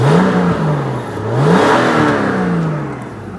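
Subaru SVX flat-six engine revving up and down twice, loud and close, harmonic pitch rising and falling in smooth sweeps with no voices over it.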